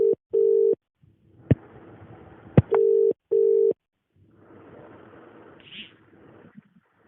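Telephone tones sound after a phone is hung up: four short, identical steady beeps, two at the start and two after a pause, separated by sharp clicks and a low background murmur.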